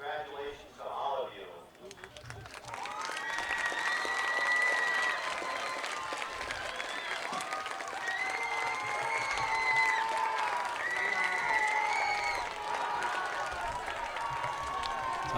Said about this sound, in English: Sounds like we got a fired up crowd here tonight.